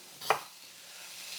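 A knife makes one quick, close cut through half of a small onion on a board, a single sharp tap followed by a faint steady hiss.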